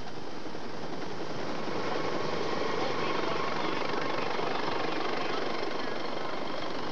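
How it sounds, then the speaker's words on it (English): A rescue helicopter landing on a golf course, its steady roar and rotor chop filling the air, loud and close, holding constant throughout. "A nearby golf course became the landing zone for the Lifeline helicopter."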